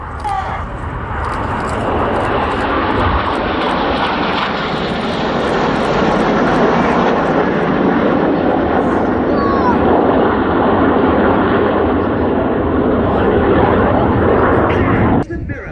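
Red Arrows synchro pair jets fly past upside down at an RAF air show at Waddington. The jet engine roar stays loud and sustained throughout, with speech faintly underneath.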